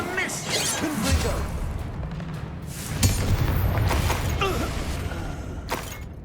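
A Confringo spell in Hogwarts Legacy lands with a booming burst amid whooshes and thuds, loud and close, alongside other combat noise and a voice speaking briefly.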